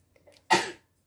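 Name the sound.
a child sneezing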